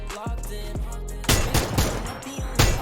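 Rapid AK rifle bursts ring out in a PUBG-style battle royale shooter, several loud, sharp volleys of gunfire in quick succession with a few short gaps between them.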